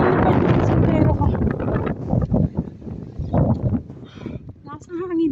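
Gusty outdoor wind in an old-town street rumbles against the microphone and rises and falls under continuous nearby talking.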